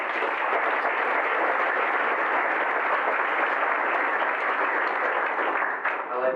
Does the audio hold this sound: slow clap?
yes